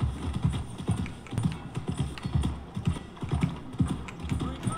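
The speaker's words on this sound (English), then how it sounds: "Sorry, I'm still learning to drive my horse." Hoofbeats from a horse galloping in the video game Red Dead Redemption 2, a steady rapid clip-clop rhythm of repeated thuds over ambient game sound, fairly close and continuous with no talking.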